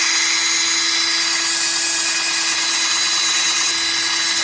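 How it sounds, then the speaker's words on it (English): Drill spinning a polishing pad to buff compound into a cloudy car headlight during restoration, a loud steady high-pitched whirring hum running continuously without pause. "we'll just let the drill do the work"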